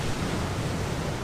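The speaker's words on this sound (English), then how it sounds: "I'm photographing the surge, the raw power of the water" Sea surging against the rocks at Brothers Point on the Isle of Skye, a steady broadband wash of churning water, loud and close, with wind noise mixed in and no voices.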